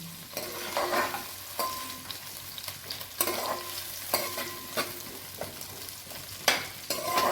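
Green chillies frying in a pan for tomato rice, a constant sizzle broken by repeated stirring scrapes and clinks of a utensil, close and clear with no talking.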